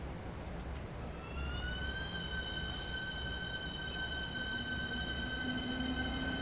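A Javelin train passes in a railway simulation, its rising electric motor whine sustained and loud over a steady rumble of wheels on track, with a high squeal joining near the end.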